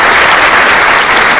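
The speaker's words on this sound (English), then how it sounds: "Round of applause for Queen." A live audience gives a loud, dense round of applause that fills the whole moment steadily, with no talk on top.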